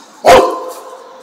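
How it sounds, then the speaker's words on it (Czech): One loud, close dog bark rings out sharply, then trails off into a lingering hum of background noise. "Pejsek se zlobí"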